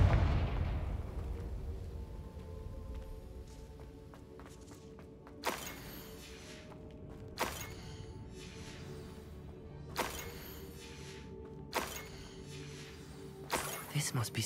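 Confringo fire spell blasts in the wizarding video game Hogwarts Legacy, several sharp explosive bursts spaced a couple of seconds apart, faint and mixed with thuds and in-game ambience.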